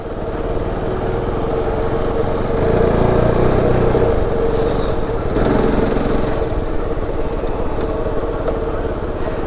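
A KOVE 450 Rally motorcycle rides an enduro trail, its engine droning loud and close throughout with a steady buzzing roar that swells and eases slightly as the throttle changes.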